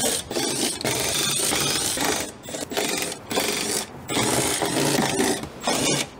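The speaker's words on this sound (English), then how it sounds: "These are going to be 8 mil bolts, so we're using an 8 mil socket." Ratcheting and mechanical scraping from an 8 mm socket wrench backing out bolts on a Tesla Model 3 door, a loud, steady run of clicking bursts broken by short pauses, close up with no talking.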